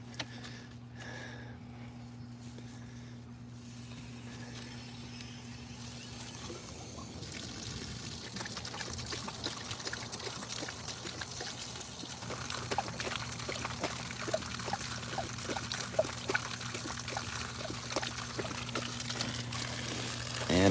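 An outdoor drinking fountain runs as a dog drinks from it, a steady trickle of splashing water that builds and brightens over the second half, with faint background hum and no talk.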